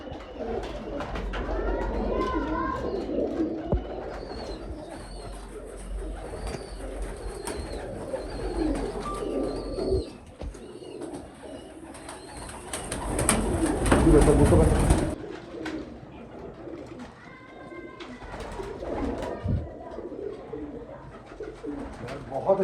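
Bankay pigeons coo softly in a loft amid ambient bird chatter, with someone talking over parts of it and a brief burst of louder noise partway through.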